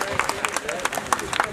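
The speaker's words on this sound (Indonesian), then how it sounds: "bisa berikan tepuk tangan yang meriah" Crowd applause for a minister at an outdoor international performance event in Solo, a brief burst of clapping mixed with cheering and speech babble.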